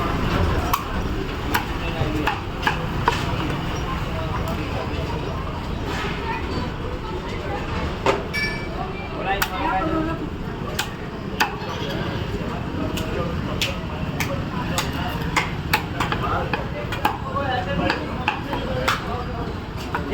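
Eel fish are hacked into pieces with sharp, irregular knife chops striking a board, close and punchy, while someone talks over the cutting in Marathi throughout.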